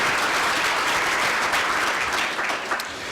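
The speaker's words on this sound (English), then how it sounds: "join me in a round of applause" An audience gives a round of applause at a health care talk, welcoming the founding partners of an organization. The clapping is dense, steady and sustained throughout, with no speech over it.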